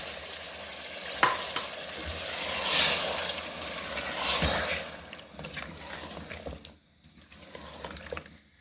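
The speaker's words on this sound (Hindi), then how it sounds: "अब इतना भूनेंगे कि दही का पानी सूख जाए।" Beef stew with tomato and 200 g of yogurt frying in a pan, a steady close sizzle with stirring scrapes and occasional clatter, loudest early and thinning toward the end.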